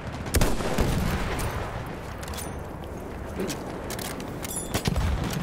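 Enemy machine gun fire rattles in a first-person war video game, sustained bursts of gunfire with a few sharper cracks, under shouted voices in the game.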